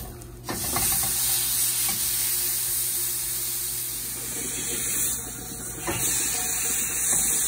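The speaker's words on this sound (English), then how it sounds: "you can see that nice searing that we got going on" A tri-tip roast searing in a hot pan gives a steady, moderately loud sizzle throughout, with a few sharp clicks and pops at intervals.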